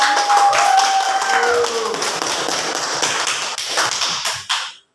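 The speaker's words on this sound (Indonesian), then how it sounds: "Beri tepuk tangan untuk Dewi" A classroom of students claps for a classmate, a dense burst of applause that fills the room, then thins out and stops abruptly near the end.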